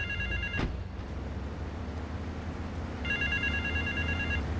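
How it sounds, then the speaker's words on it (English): In GTA III, a phone rings out in two separated bursts of trilling electronic tone, moderately loud over constant rain-like ambience, with a sharp click between them. "See that phone ringing?"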